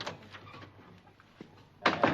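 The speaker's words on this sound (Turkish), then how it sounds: "Kapı çalıyor lan kapı." Knocking on a door in a Turkish comedy sketch: a faint tap or two early on, then a loud cluster of sharp knocks near the end, with no talking.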